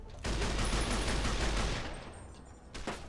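A DP-28 machine gun in a Fallout: New Vegas mod fires a rapid burst of loud automatic shots for over a second, the reports tailing off, with a couple of fainter thuds after.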